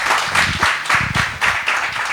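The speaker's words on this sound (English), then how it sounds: "I'd like all of you to welcome ma'am here with a round of applause." An audience claps in welcome at a fireside chat, a loud, even round of applause with distinct clustered hand claps pulsing through it.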